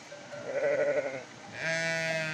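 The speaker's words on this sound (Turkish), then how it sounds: "Kuzusu da burada." Orphaned lamb, its ewe dead a week after giving birth, bleating twice up close on a farm: a wavering cry, a brief pause, then a second, steadier and brighter bleat.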